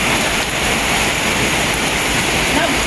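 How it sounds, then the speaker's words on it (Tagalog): Steady, dense roar of heavy rain pouring down in cold, foggy Bukidnon, Philippines, broadband and constant throughout with no pauses. "grabe ka kusog ang ulan"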